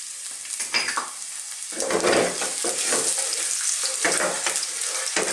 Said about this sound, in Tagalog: Mainit na po yung ating pan, meron na rin pong oil. So lalagyan na po natin ang ginger. Sasabay na rin natin ang garlic.